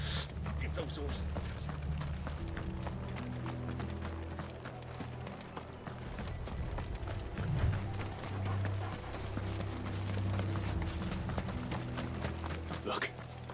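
Horse hooves clip-clop in a steady rhythm with creaking cart and tack mechanisms in a Final Fantasy XVI game scene, continuous and fairly close under a low rumbling backdrop, with people talking.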